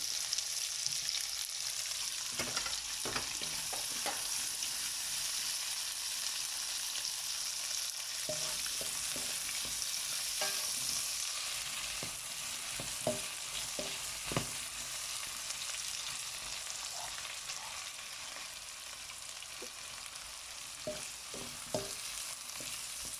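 Red and yellow peppers fry with garlic in a pan, giving a steady, close sizzle with scattered crackles and occasional stirring clicks, no voices.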